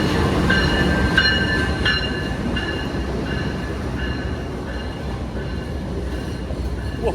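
Sancaka passenger train arriving at a station on the Surabaya–Jogja line, a steady rolling rumble with repeated high metallic wheel squeals and clicks over the rails, heard close by.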